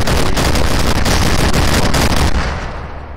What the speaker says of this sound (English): I don't know if you hear me over the gunfire